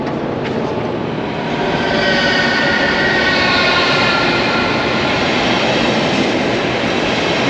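A loud, continuous rumble of a train rolling through a Berlin station, steady broadband noise with no voices.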